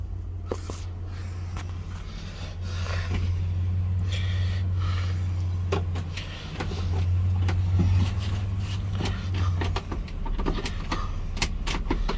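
A repaired Tuff Truck, fresh upper ball joint and control arm on the driver's side, drives on a test run, its engine giving a steady low rumble that swells at times, with scattered clunks and rattles and no voices.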